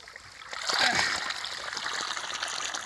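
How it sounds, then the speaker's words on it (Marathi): Water gushes from a 2.5-inch outlet pipe of a 3 hp solar borewell pump, a broad splashing rush that swells early, then settles into a steady flow, with faint voices nearby. "एवढं पाणी मारते."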